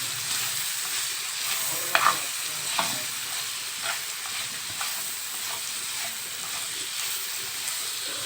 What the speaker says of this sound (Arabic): نقلب بقى